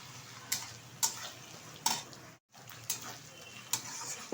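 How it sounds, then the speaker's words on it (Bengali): Ginger, garlic and onion sautéing with spices in a pan for prawn pulao, a soft steady sizzle broken by regular spoon scrapes and stirring clinks about every half second, with one brief drop-out. "তো এখন ভালোভাবে এটা কষিয়ে নিচ্ছি"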